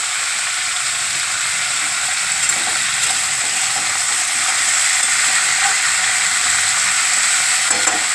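Palta (pointed gourd) leaves frying in hot ghee for a Bengali sukto, a loud steady hissing sizzle that stays even from start to finish, close up with no speech.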